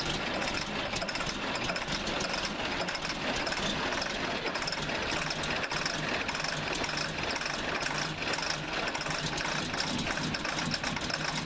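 An engine idles steadily after a cold start with a rough, ticking chatter from exhaust leaks throughout, a constant mid-pitched running sound with no voices.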